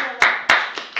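A handful of separate, sharp hand claps ring out at a mayoral candidates' forum, spaced unevenly as a few audience members start to applaud.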